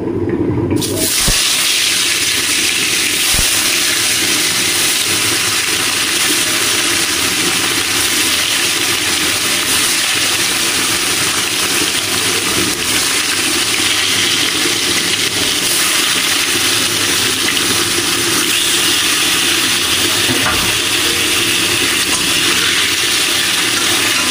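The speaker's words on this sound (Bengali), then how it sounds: "তেলটা গরম হয়ে গেছে, এবার মাছগুলো দিয়ে ভেজে নেব।" Bhola fish sliding into hot oil in a pan for a spicy fish curry, giving a loud, continuous, dense sizzle that stays close and steady throughout.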